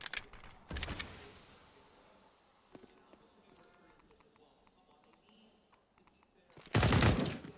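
Gunfire from a Counter-Strike match on the Train map at a DreamHack tournament comes in loud, sharp bursts at the start and again near the end, with quieter game noise and talk in between.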